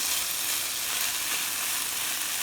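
Chopped carrot and beans fry in a hot pan, giving a steady, even bright sizzle that holds at one close level throughout, with no talk.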